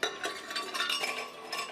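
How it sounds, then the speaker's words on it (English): Five standard ice cubes dropped into an Oster Pro 1200 blender jar, giving a quick run of hard clinks and rattles that keep going without a break. "First, I'll add a cup of ice. These are 5 standard ice cubes."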